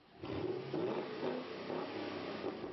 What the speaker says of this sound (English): one of the sexy things about this new V8 SS is its bimodal exhaust system